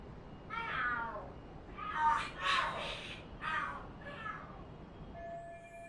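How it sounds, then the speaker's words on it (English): Cats fighting and screaming in the video game Lost Judgment, a series of loud, drawn-out yowls and shrieks rising and falling in several bursts, close and clear with a quiet background. "Are there cats fighting?"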